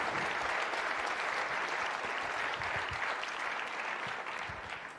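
Audience applause for the president at a Vosges innovation showcase, a steady dense clapping that holds for the whole stretch, fairly close and even, easing slightly toward the end, with no voices standing out.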